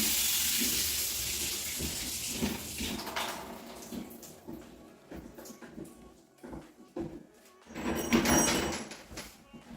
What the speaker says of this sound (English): So I'll just turn the taps on, let any residual water come out